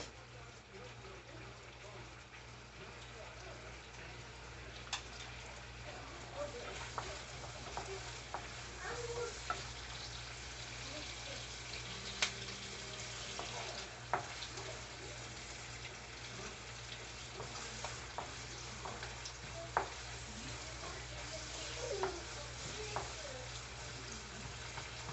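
Onions fry in a pan for a Bengali rohu fish and dried-fish egg paturi, a soft continuous sizzle with repeated light scraping and stirring clicks throughout, fairly quiet and steady.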